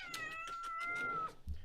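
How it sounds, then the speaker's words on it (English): Vega, a tiny pet cat who never grew up, gives a single drawn-out meow with a rising then falling pitch, close and clear, followed by a soft thump. "This is our little tiny kitty, Vega, who never grew up."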